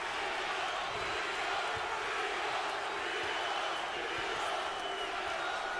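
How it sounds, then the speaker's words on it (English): A boxing crowd at ringside chants a fighter's name early in a rematch bout, a broad, continuous roar of many voices filling the arena at steady loudness for several seconds. "Crowd is chanting Rios, Rios early."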